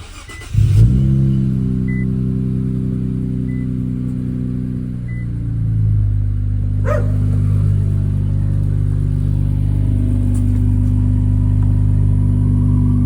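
An Infiniti Q60 Red Sport engine cranks and fires up near the listener, then settles into a steady, loud idle with a slight rise in pitch midway.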